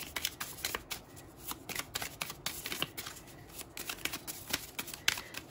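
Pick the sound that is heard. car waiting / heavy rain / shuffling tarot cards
shuffling tarot cards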